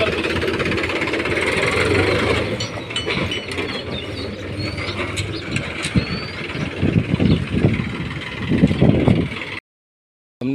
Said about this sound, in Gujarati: જો અત્યારે ટ્રેક્ટર બેક્ટર વાળીને આગળ લઈ જઈએ આપણે.